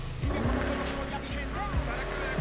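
Car engine in the Need for Speed Heat racing game, driving slowly with a low, steady drone and small pitch shifts, mixed with other game sounds.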